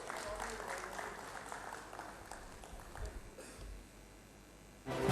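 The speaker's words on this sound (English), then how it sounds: "Ladies and gentlemen, please give a huge round of applause." Applause for the chief guest at a World Skill renewable energy felicitation ceremony, a moderate, steady crowd clapping that thins out midway before a louder burst near the end.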